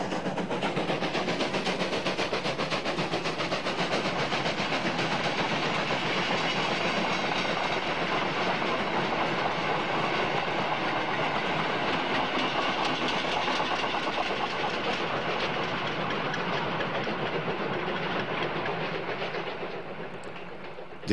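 Steam locomotive 03 001 hauls a goods and express train through the Elster valley toward Greiz, a steady loud rumble with rhythmic wheel clatter for about twenty seconds, fading slightly at the end.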